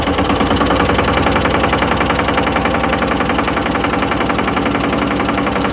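A new tractor's engine runs loud and close in a steady, fast chugging rhythm that continues throughout without talk.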